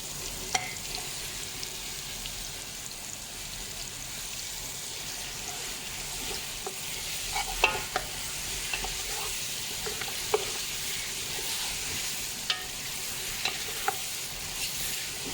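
Pieces of mutton fry with onions in hot oil, giving a continuous close sizzle with scattered stirring clicks and scrapes, no talking.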